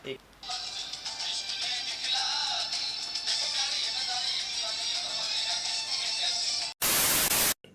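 Loud hissing radio static fills the clip steadily, cutting out briefly near the end before a harsher burst of noise.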